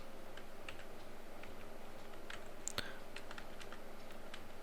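Typing code on a computer keyboard: a steady run of light, quiet key clicks with an uneven rhythm, close by, with no talk over it.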